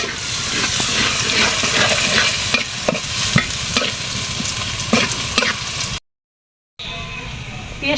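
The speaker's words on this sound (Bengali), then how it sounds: "পেঁয়াজটা ভাজা হয়ে গেছে" Onions fry loudly in a pan for bhuna khichuri while a utensil stirs and scrapes them in a busy rhythm over a dense sizzle. A short silent gap comes near the end before the sizzle returns.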